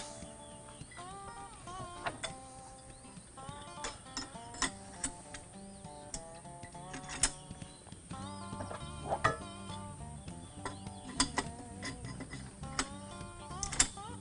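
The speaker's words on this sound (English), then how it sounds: "They got little push button releases. Just push those in. Pop in your 4 legs." Several sharp plastic clicks and snaps as the four legs with push-button releases lock into a Prairie Predator base, irregular and close, with light rattling handling between them.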